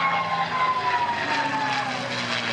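North American P-51 Mustang propeller aircraft at an air show, a loud steady engine drone with a constant tonal hum, close and sustained throughout.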